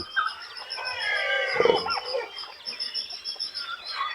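A flock of turkeys gobbling and calling over a constant background of high chirping birds, with one louder burst near the middle.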